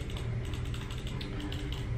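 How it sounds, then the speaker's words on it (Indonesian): Scroll wheel of an optical mouse being rolled, a quiet, rapid ratcheting patter of tiny clicks running continuously and close up with no talking. "Untuk tombol scrollnya sendiri juga enak kok, maksudnya untuk di scroll juga lumayan"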